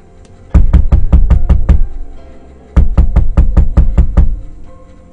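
Knocking on a bedroom door in a horror radio story: two sharp, loud bursts of rapid knocks, about six or seven raps each, separated by a short pause, close and dry with no talking.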